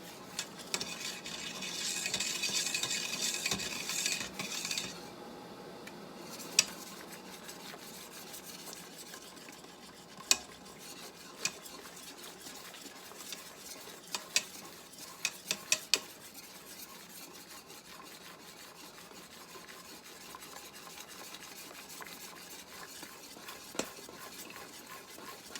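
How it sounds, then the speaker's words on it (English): A spoon stirs a boiling pot, with a steady soft bubbling hiss and scattered clinks and scrapes against the pot. The sound is louder and rougher in the first few seconds. "Just you're going to constantly stir."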